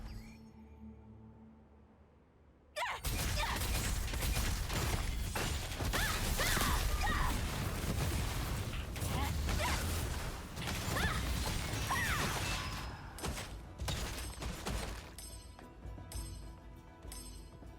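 Zephyr skill attacks with a staff in Throne and Liberty start abruptly after a near-silent opening, then a dense, loud stream of whooshes, mechanical clatter and crashing impacts runs on, thinning toward the end.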